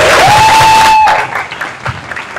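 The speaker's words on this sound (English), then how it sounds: "So one final round of applause for all of that." Applause from an audience at a student music showcase breaks out after a sustained tone fades, then trails off into a few scattered claps.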